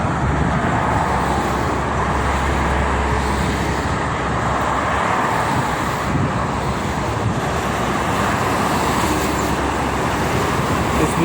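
Heavy morning traffic of trucks and buses streams along the Jakarta–Cikampek toll road, a steady dense roar of passing vehicles heard from the roadside with wind buffeting, no talking.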